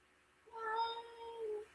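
A house cat meows at the door on a cold day, one long, clear, drawn-out call of about a second, heard close and alone with no talking.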